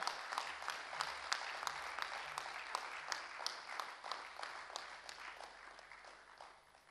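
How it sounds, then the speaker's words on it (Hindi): Audience applause at the Champions of Change Karnataka 2023 award ceremony honouring a Padma Shri recipient, a steady patter of many hands clapping that gradually fades toward the end. "जोरदार तालियों से एक बार फिर अभिनंदन"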